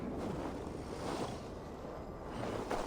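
Steady roar of wind mixed with rolling waves in Assassin's Creed Valhalla, a continuous washing rush with gusts swelling now and then, no voices.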